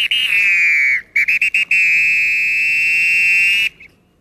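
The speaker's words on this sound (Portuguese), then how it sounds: "os integrantes da bateria devem estar atentos ao comando de quem detém o apito" A samba whistle (apito) of the kind used to command a bateria blows loud and shrill, first in a long tone, then a quick run of short staccato bursts, then another sustained blast before it stops abruptly.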